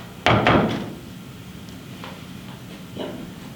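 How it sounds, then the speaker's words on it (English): An interior door to a hallway is pushed shut, giving a sharp wooden thud and a quick second knock. Faint clicks follow in a quiet room, with no talking. "I'm gonna go shut that door though, just so it doesn't pick up any noise from the hallway."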